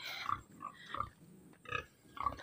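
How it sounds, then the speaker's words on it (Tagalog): Pigs in a farm pen grunt in several short, low, rhythmic bursts at moderate distance, with no talk over them. "Dito ang kulungan namin ito. Kulungan ng baboy."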